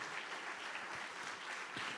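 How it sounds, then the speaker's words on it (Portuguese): A church congregation applauds after a call to praise during a service, steady broadband clapping held at a moderate level for about two seconds with no talk over it. "Eu gostaria de ouvir uma salva de palmas da igreja"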